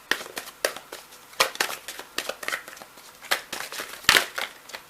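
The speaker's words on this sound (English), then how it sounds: "No, I need to shuffle a little bit more." Tarot cards riffle and slap as they are shuffled by hand up close, a quick irregular run of crisp papery flicks and snaps with no talking.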